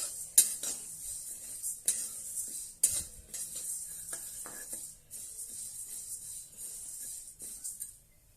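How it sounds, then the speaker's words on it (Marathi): Urad dal dry-roasting in a pan for a summer dangar, a spoon scraping and clinking against the metal in irregular strokes with a soft dry rustle of grains, fairly close and steady, no voices. "ही आता आपण चांगली खमंग भाजून घेऊया ही आपण लालसर होईपर्यंत भाजून घेणार आहे"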